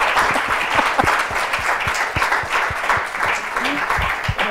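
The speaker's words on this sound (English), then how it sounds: "A huge thank you and round of applause to our panel tonight." Steady audience applause fills the room after a panel discussion on lung cancer care in Colorado, dense clapping from many hands sustained throughout at a fairly loud, even level.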